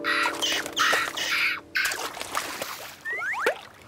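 Cartoon seagulls squawk in a few short, sharp cries near the end, after choppy bursts of other cartoon sound effects.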